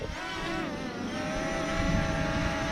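An Eachine EX5 foldable GPS drone spins up for takeoff, its motors producing a rising, steady multi-tone whine that stays close and loud throughout without any talking.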